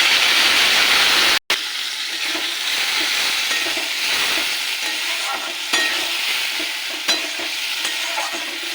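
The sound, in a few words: spice paste frying and being stirred in a pan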